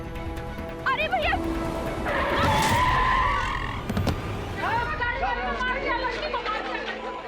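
A car skids to a stop in front of a girl on a city street, giving one loud tire screech in the middle, with shouting and chatter from several voices before and after.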